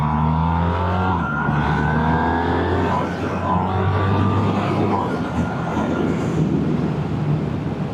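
A 2026 BMW R1300R motorcycle engine pulls hard on an open road, its loud tone rising in pitch through the gears over steady wind rush.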